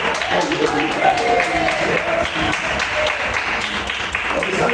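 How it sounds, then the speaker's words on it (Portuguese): A church congregation claps together in a dense, steady wash of applause during a sermon, with voices mixed in beneath the clapping throughout. "Uma salva de palmas."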